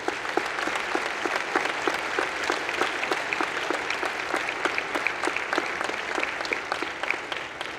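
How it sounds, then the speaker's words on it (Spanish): Audience applause at a Guadalajara book fair presentation: steady, dense clapping from a large crowd filling the whole stretch at an even, sustained level. "por favor, pido otro aplauso por eso"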